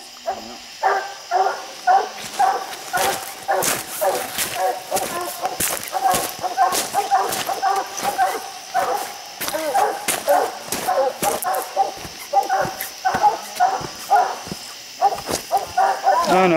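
Several hunting dogs bark and bay repeatedly at a treed raccoon in an excited, continuous chorus outdoors, loud and close, with sharp overlapping yelps throughout.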